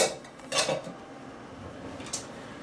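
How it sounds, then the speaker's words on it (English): A pastry cutter working ice-cold butter into flour for pie crust, giving two distinct metal clinks against the bowl, one early and one near the end, with quiet between them and no speech. "I'm going to use this cutter and cut into it until it looks like coarse sand"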